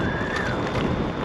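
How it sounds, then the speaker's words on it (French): Steady wind buffeting on a bike ridden into a light headwind at around 30 km/h, a continuous broadband rush with a faint whistling tone and no talk. "il y a un peu de vent, c'est un peu dommage"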